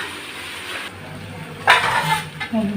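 Garlic and soaked rice frying in oil in a home kitchen, a soft sizzle with utensil scrapes and clinks against the pan, growing louder after a sharp stir near the middle.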